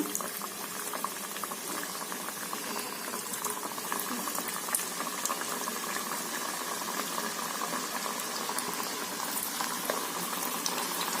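Vadas deep-fry in hot oil with a dense, steady bubbling hiss that stays even and unbroken throughout, with no voices.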